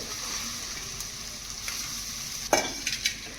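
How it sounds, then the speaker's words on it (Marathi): Grated coconut frying in hot ghee, a soft low sizzle with a few sharp scraping stirs near the end, fairly quiet and close. "तूप थोडंसं गरम झालं की लगेच हे खोबरं देखील टाकून घ्यायचंय"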